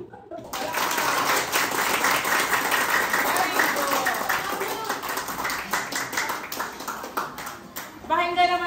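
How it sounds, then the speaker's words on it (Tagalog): Classroom applause for a student group after their presentation: a steady burst of many hands clapping for several seconds, loud and continuous, fading into a short voice at the end. "palakpak ng dalawa para sa group 2"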